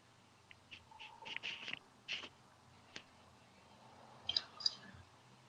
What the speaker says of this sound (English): You guys hear that tapping of the keyboard? That's my computer.